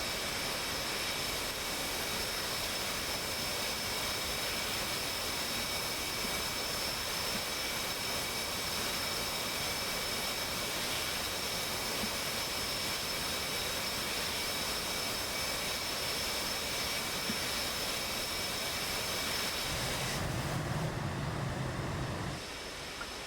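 In a video game, a jet aircraft engine whines and roars steadily while taxiing on a runway, a loud continuous hiss with a high tonal whine that holds throughout and shifts slightly near the end.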